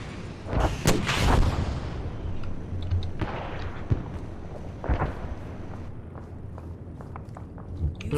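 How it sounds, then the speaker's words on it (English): A 125mm tank gun fires in a video game, a heavy booming blast followed by rolling rumble, with several more distant thuds and cracks over a continuous battlefield background; no speech over it. "Oh, that is not in fact the ATGM, that is a 125mm tank gun."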